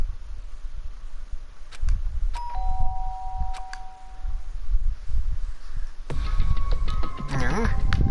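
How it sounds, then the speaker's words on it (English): A doorbell chimes twice in the Danganronpa video game, clear two-tone dings with a ringing tail, followed by a brighter rising chime, over faint rustling and low background sound. "Did I hear the doorbell?"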